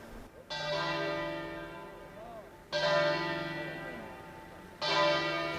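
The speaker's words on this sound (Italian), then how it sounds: "Il lutto e il silenzio rotto dal suono delle campane avvolge la comunità" Church bells ring in three loud, sustained strikes during mourning, each tolling tone swelling and slowly fading before the next, with faint murmuring in the background.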